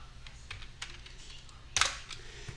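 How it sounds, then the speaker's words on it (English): Keys clatter on a computer keyboard in a quiet room, a few soft light taps followed by one louder, sharper keystroke near the end, with no voices. "I'm going to type B, enter."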